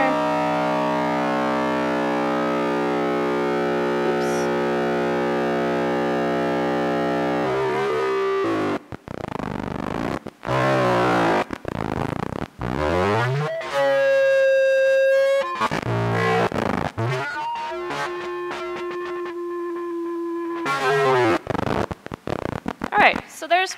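An experimental electronic instrument called a blowtar: a sustained droning synthetic tone gives way to choppy, distorted electronic bursts, stuttering pulses and wavering pitched tones, loud and processed throughout.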